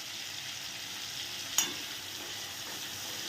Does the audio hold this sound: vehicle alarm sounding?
no